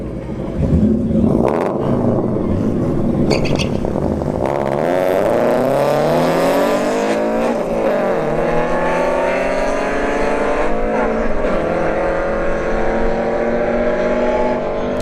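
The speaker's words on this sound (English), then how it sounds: "Got the BRZ in the right lane, 25 CI in the left lane." A Subaru BRZ and a 25 CI car drag racing down a dragstrip, engines roaring loudly as they launch, then the pitch climbs steadily through the gears as they pull away, with faint crowd voices in the background.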